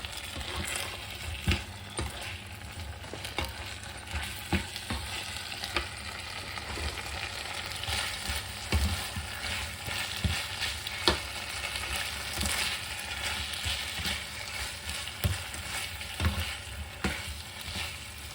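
Stir-fried pork on high heat sizzles and crackles steadily as cornstarch slurry goes in, with scraping stir strokes and occasional clinks of utensil on pan, close and continuous with no talking.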